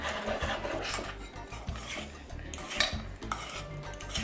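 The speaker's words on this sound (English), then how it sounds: "We're gonna cut the cilantro. Yes. Just give it a rough chop." Cilantro roughly chopped with a knife on a board for homemade guacamole, a quick series of close, soft rhythmic thuds and scraping cuts.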